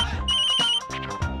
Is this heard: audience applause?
no